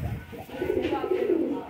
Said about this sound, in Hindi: सालारा कबूतर है।